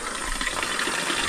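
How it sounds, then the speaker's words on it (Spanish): Water from a small spring pours steadily into outdoor washing basins, a continuous close splashing rush with no voices. "miren qué bonita el agua que está cayendo"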